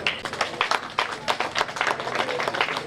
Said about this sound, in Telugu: క్లాప్స్ కొడితే ఆరోగ్యానికి కూడా మంచిదే